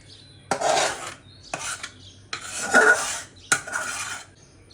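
Boiled mango pulp gets scraped and pressed through a perforated metal strainer, giving four rough, rasping strokes of metal against mesh, each lasting about a second with short pauses between.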